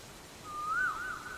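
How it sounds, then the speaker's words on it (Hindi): A koel calls once in a lovely outdoor setting, a single clear rising and falling whistled note at moderate distance, alone with no talk. "ये तो कोयल की आवाज है।"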